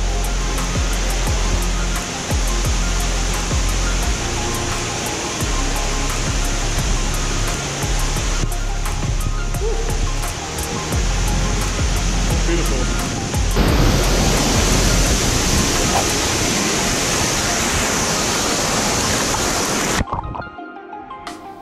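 Waterfall in South Donegal, a steady, loud, broadband rush of falling water that fills the scene continuously, with a slight shift in texture partway through before cutting off near the end.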